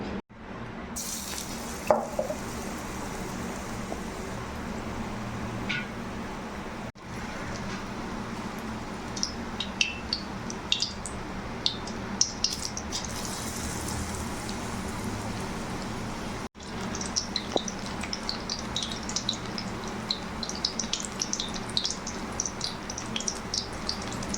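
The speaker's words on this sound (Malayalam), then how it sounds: "എന്നിട്ട് നമ്മൾ ആ എണ്ണ ചൂടായ ചട്ടിയിലേക്ക് ഇട്ട് കൊടുക്കുക." Chilli bajji coated in batter sizzling in a pan of hot oil, a quiet continuous bubbling hiss with scattered crackles and pops, briefly interrupted by a few short cuts.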